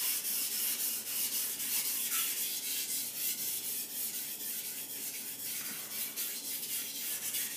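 A Takeda gyuto knife is stroked across a Japanese whetstone in steady, rhythmic rasping passes. The scraping repeats evenly up close for over seven seconds with no talk.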